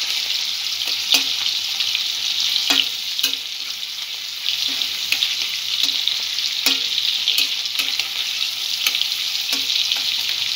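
Shrimp frying in hot oil after being rubbed with salt and turmeric, a loud continuous sizzle close up, with regular sharp ticks of a spatula stirring and scraping the pan.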